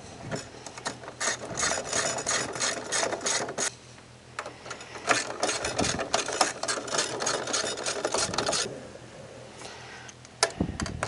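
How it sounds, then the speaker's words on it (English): Ratchet with a 3/8 deep socket tightening small bolts during a blower replacement on a Santa Fe Compact2, rapid close clicking in several bursts separated by short pauses. "Using that 3/8 deep socket again, tighten those down."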